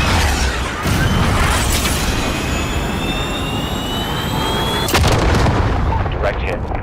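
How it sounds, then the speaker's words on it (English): A missile strike explodes in a video game bot match, with a jet engine roaring throughout and deep booming blasts landing at least twice, loud and close. "On target, hit him now. Jaguar 2-0, missile away."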